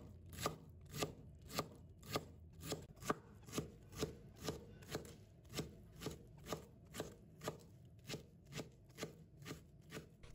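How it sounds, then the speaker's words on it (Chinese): A knife chops blanched Indian lettuce into small pieces on a cutting board, about twenty steady, evenly spaced thuds in a quick, regular rhythm, close and fairly soft, with no voices. "再给它切成粒。"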